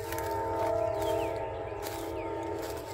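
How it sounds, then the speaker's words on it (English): A train rumbles steadily past with a sustained horn-like tonal drone layered over the low mechanical roar, fairly loud and near. "There's the train."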